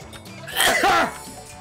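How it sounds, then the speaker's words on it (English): A single powerful sneeze bursts out close to the microphone, a short, loud blast lasting about half a second against quiet background sound. "that was a power sneeze right there"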